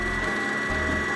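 A MakerFront i3PRO 3D printer runs at high speed while bridging between corner pillars, a steady whirring hum with a faint whine from its stepper motors and no talk.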